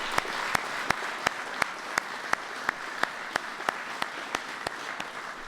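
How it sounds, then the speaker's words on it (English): A White House audience applauds the Joe Gibbs Racing No. 18 team with steady applause and a sharp, evenly paced clap beat standing out above the crowd. "Give them all a big round of applause."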